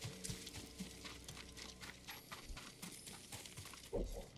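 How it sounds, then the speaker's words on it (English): Horse hooves clip-clop in a steady rhythm in the video game Ghost of Tsushima, moderately close, over a soft ambient bed, with a louder thump near the end. "Oh no, I don't want to ride this horse."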